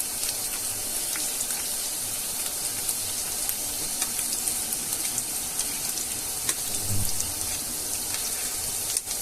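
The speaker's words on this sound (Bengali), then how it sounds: "দশ মিনিট ভেন্ডিটাকে ভেজে নেবেন।" Okra (bhindi) frying in a pan gives a steady crackling sizzle with scattered pops and a brief stir or knock near the end, with no talking.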